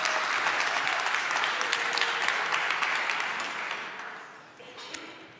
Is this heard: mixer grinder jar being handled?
no